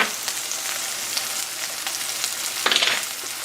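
Sliced zucchini sautéing with fresh garden herbs in a frying pan, a steady close sizzle and crackle with a brief louder spatter near the end.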